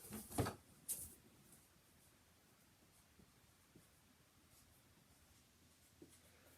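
A pen writes on paper with a few faint, close scratchy strokes after a couple of louder knocks at the start, then mostly quiet.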